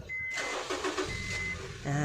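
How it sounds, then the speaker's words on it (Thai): A short beep, then the engine of a 2011 Honda Accord 2.0 EL cranks and quickly catches, settling into a steady idle close by. "แล้วผมสตาร์ทเครื่องยนต์เลยนะครับ"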